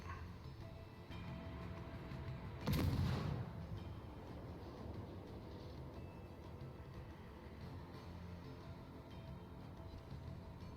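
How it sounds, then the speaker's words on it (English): Warship Moskva firing its guns in a naval video game, a single sharp boom standing out over a steady rumbling background. "That's the Moskva shooting at me."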